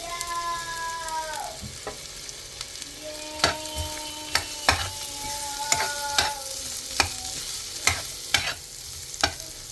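Pork sizzles and fries in a pan while a utensil stirs it, giving repeated sharp scraping clacks over a steady soft crackle, close and moderately quiet.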